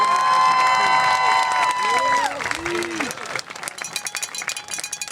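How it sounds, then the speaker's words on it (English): A school crowd applauds and cheers for the St. Joseph Catholic School homecoming court at a homecoming football game, with dense clapping, shrill whoops and shouted voices rising over the noise, and sharper scattered claps carrying on to the end. "Let's give them a big round of applause."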